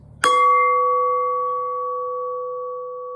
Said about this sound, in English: But you talking about a cool sounding bell.